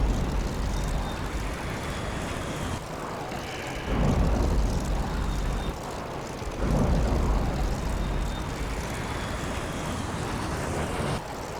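Propeller planes in the video game Air Wars III drone steadily, with engine roar swelling and fading as aircraft pass, loud and continuous throughout.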